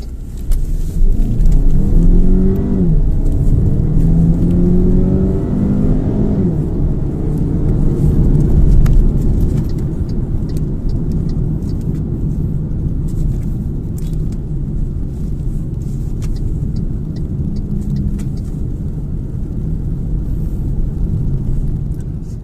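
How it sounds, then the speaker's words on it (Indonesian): Turbocharged MG HS i-Smart Magnify SUV engine accelerating, a steady loud low rumble with rising revs and turbo spool early on, then settling into a sustained drone throughout. "ketika dibajak, suara mesinnya masuk dan tone-nya itu sebenarnya cukup enak loh"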